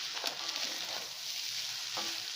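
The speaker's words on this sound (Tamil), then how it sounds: "இப்போது உதிராக வடித்த சாதத்தை கொஞ்சம் கொஞ்சமாக இதில் நான் சேர்த்துக்கிறேன்" Cooked rice is added a little at a time to capsicum in a pan, giving a soft frying sizzle with occasional scraping stir strokes, fairly quiet and with no talking.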